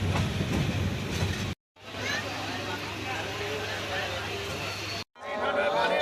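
The Kishoreganj Express intercity train, on its run from Dhaka to Kishoreganj, rumbles steadily with a constant low hum and faint crowd babble at Bhairab Junction station, broken by two brief dropouts.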